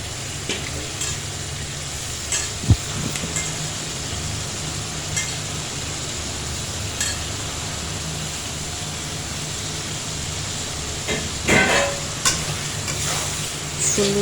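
Beef brain frying in a pan as it is stirred through spices, a steady close sizzle with occasional scraping stir strokes and small clatters throughout, no talk.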